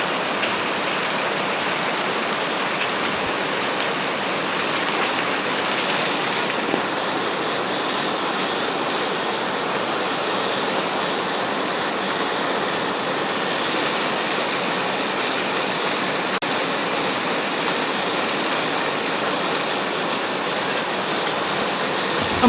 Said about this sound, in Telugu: వర్షాలు అయితే కురుస్తున్నాయి.